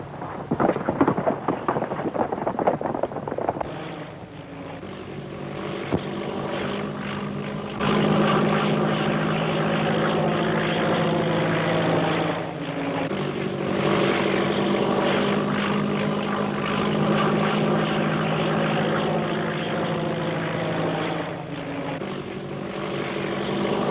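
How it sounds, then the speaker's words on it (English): A 1930s propeller airplane drones overhead in a 1936 film, a loud sustained engine roar with a rougher rumbling start, then a steady buzzing hum that swells and fades slightly over the length. "where's this plane coming from?"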